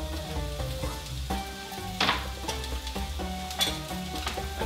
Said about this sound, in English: we're gonna throw our onions right in there. Got a good sizzle going right away.